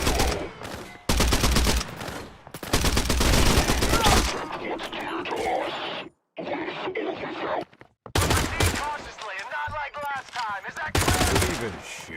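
Bursts of rapid gunfire in the survival shooter Pioner: loud, dense automatic volleys broken by short pauses and reload clatter, close and dominant, with someone talking between shots.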